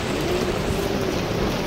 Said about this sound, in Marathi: लय बेकार पाऊस येतोय जोरसत.